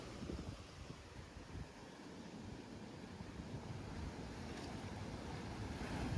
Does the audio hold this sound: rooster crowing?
no